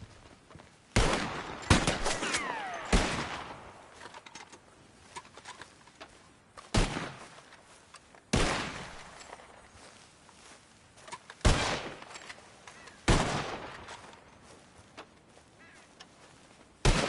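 Sharp rifle shots fired at birds in the Red Dead Redemption 2 video game, about nine loud cracks at irregular intervals, each trailing into a short echoing decay, with faint bird flutter in the quiet gaps.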